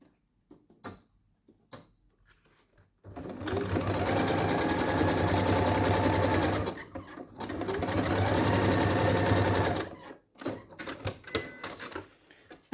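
A sewing machine stitches a row of zigzag on a skirt, running in two close, steady whirring bursts of about four and three seconds separated by a short pause, with small clicks and handling taps before and after.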